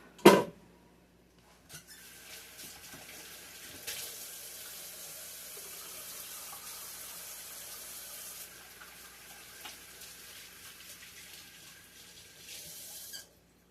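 Green beans are rinsed under a running kitchen tap. A squeak from the faucet comes first, then water flows steadily for about eleven seconds before stopping abruptly, with no talking.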